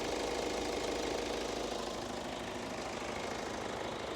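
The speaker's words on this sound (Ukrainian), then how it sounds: "Мотор працює чітко, рівненько" The 2.2-litre diesel engine of a Hyundai Santa Fe idles steadily, humming continuously with an even, slightly knocking rumble, close and unbroken, with no voices.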